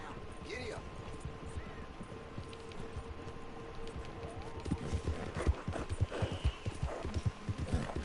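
Horse galloping in the video game Red Dead Redemption 2, quiet rhythmic hoofbeats that pick up and grow louder in the second half, with a whinny early on and a person talking over it.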